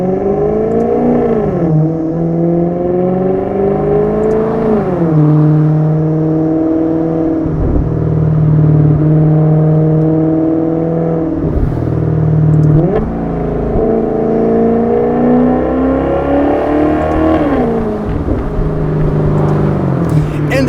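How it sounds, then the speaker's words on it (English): A 2015 Maserati GranTurismo Sport engine revs repeatedly through rising and falling RPM sweeps, a loud, close engine note with a thin whine from the engine bay climbing as it gets louder, while a driver talks. "there's a bit of a whine coming from the engine bay whenever it gets louder as I go higher up in the RPM band"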